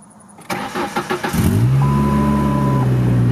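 Ford Ranger pickup with nearly 198,000 miles, unstarted for two weeks, cranking in quick rhythmic bursts before catching and settling into a loud, steady idle with a faint whine.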